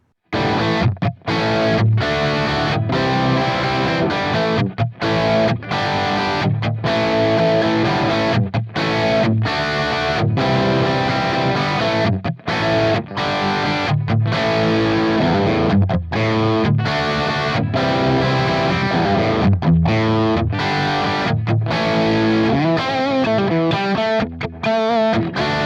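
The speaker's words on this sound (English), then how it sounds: "I'm gonna test this one, Marshall N1." Distorted electric guitar plays through a Valeton GP-50 with a Marshall N1 NAM amp profile. Loud chugging rhythm riffs carry crisp stops and palm-muted bursts, and a faster run comes near the end, with no talking.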